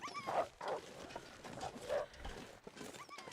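A dog called Slim Wolfie lets out several short barks and yelps in quick succession, close and fairly loud, with no one talking.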